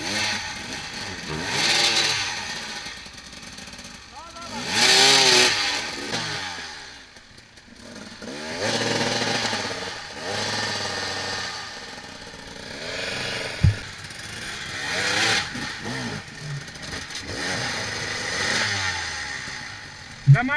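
An off-road enduro motorcycle engine revs hard in repeated surges during a hard enduro ride, rising and falling with throttle bursts, loud and close, with brief sputtering between pulls.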